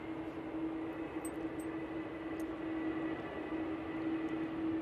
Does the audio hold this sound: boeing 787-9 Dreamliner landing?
yes